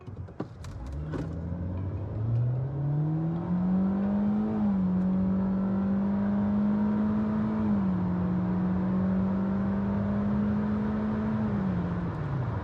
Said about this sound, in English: Okay, Hyundai Elantra 2021 acceleration test. Here we go.